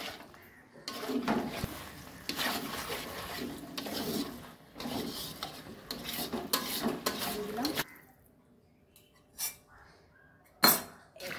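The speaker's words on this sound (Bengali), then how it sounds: "এবার এটাকে ভালো করে কষতে হবে।" Paneer makhana curry stirred in a pan with a utensil, repeated scraping and clinking strokes in bursts over several seconds, followed by quieter moments with a couple of sharp metallic knocks.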